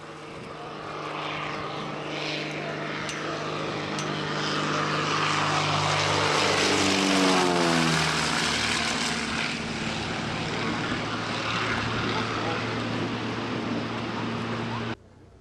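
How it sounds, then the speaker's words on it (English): Two restored Seabee seaplanes drone in on approach with propeller engines, swelling from a distant hum to a loud, close roar, the pitch sliding downward as they pass over the lake, then fading. "These two aircraft arriving are two beautifully restored Seabees."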